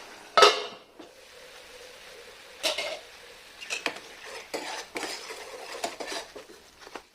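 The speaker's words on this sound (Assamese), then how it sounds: "মানে ঢাকন লগাই দিম যিহেতু বহুত চিটিকিছে।" Tomato masala with green chili fries and spatters in oil in a pan, giving soft sizzling under a loud metallic clank, then scattered clinks and scrapes of a spoon and lid against the pan.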